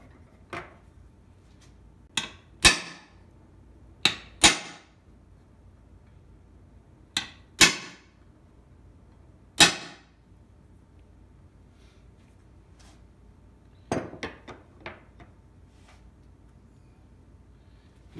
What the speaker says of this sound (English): Center punch and hammer.